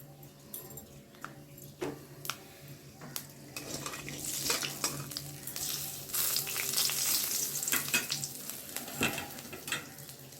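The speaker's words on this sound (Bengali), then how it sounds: "পাঁচ ফোড়নটা আমি তেলে দিয়ে দেবো" Panch phoron spices hit hot oil with a soft, steady sizzle that swells midway, while occasional clinks and scrapes of a spoon against the pan come through and no one speaks.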